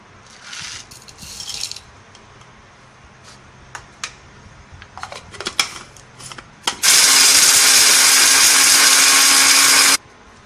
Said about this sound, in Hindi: पहले हम गरम मसाले को सबको पीस लेंगे ग्राइंडर में।